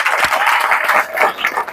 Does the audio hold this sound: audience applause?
yes